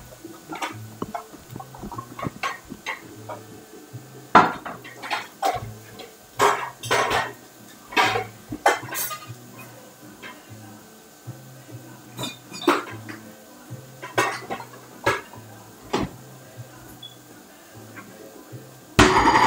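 Pots, dishes and cutlery clatter and clink in a home kitchen while a rice cooker is fetched, with sharp scattered knocks at irregular intervals over a low background hum and no talk.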